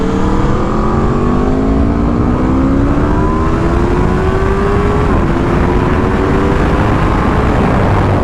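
A 2021 Aprilia RSV4 1100 sportbike engine howls under riding, loud and close, its pitch climbing steadily through the gears with a brief shift dip, and wind roar constant beneath it.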